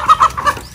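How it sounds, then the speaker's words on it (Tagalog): Native chickens being sold at a market in Glan, Sarangani Province cluck in a few short, close bursts, loud and clear with no talk over them. "Yan yung ating mga manok."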